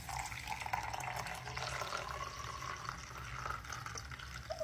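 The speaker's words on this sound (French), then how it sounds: "Je vais verser ma levure à l'intérieur et puis je vais rajouter de l'eau tiède." Lukewarm water pours steadily into a small bowl of yeast, a continuous close trickle and splash that lasts several seconds, with no talking over it.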